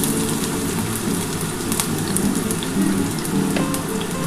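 Carrot, cauliflower and beans fry in a pan, giving a steady close sizzle and crackle like light rain that holds level throughout, with no talking.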